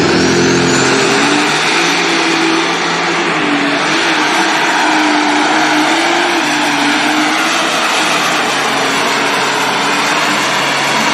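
A super stock tractor engine revs hard and continuously at a tractor pull, loud and sustained with a steady roar and rising, shifting pitch throughout.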